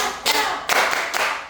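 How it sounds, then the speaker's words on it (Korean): Children at a Sunday school service at a church in Bucheon clap together in praise: three loud, evenly spaced unison claps, close and crisp. "우리 가빈 칭찬 박수 한번 합시다"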